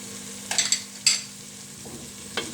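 Dal mash simmering with ginger and green chillies is stirred in the pot, with a few close spoon clinks and scrapes over a quiet sizzle and short gaps between them.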